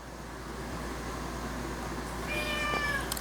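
A pet cat meows near the end, a few rising, drawn-out calls over a steady low indoor hum, fairly faint.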